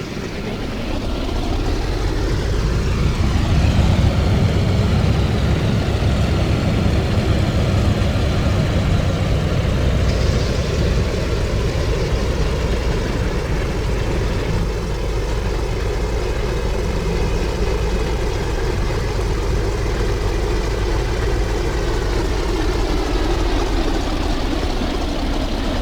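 Aircraft engines in the IL-2 1946 flight sim start up and settle into a steady, loud, low droning idle that holds for the whole stretch with no talking.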